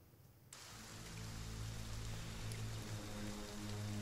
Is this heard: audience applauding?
no